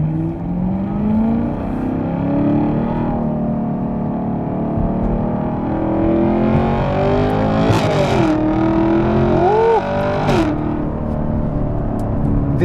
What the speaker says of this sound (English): The way the exhaust sounds in the car